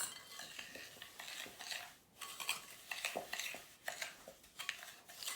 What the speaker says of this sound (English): And you're going to add your egg, just 1 egg. Mix it up again.